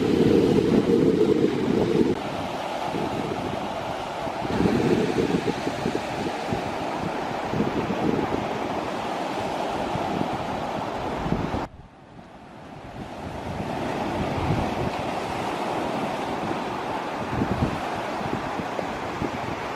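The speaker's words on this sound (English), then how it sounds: "sounds of the ocean" Ocean waves wash steadily over a pebble beach at Ballymoney, County Wexford, Ireland, a continuous rushing surf with strong wind noise buffeting the microphone and a brief dip before the roar resumes.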